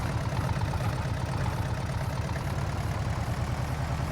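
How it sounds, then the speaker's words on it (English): An engine runs at a steady working speed on a vineyard restoration farm, giving a constant low, even drone that holds unchanged throughout without revving. "I want to find the correct engine speed for this"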